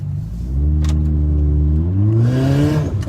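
A turbocharged Toyota Altis with its catalytic converter removed revs hard during a turbo test, the engine note climbing steadily in pitch over about three seconds, loud and close, with no voices over it.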